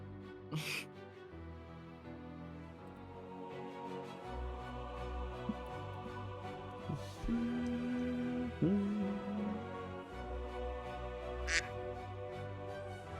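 A voice imitates a duck with a short nasal quack or two partway through, sounding near and fairly clear over a low background hum, with a few other brief vocal sounds around it.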